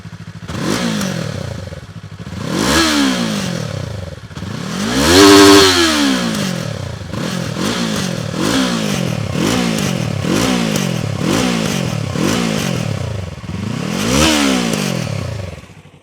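A loud, close Yamaha YZF R3 sport motorcycle engine revs repeatedly, climbing sharply in pitch with each throttle blip and dropping back between them, with no talking.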